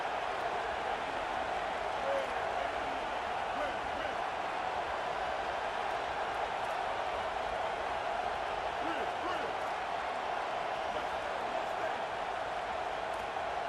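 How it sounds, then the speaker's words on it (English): Stadium crowd noise in the college football video game EA College Football 27: a steady, even roar of a large crowd fills the background throughout, with a commentator talking over it. "Decibels rising as the crowd gets behind this defense on third down."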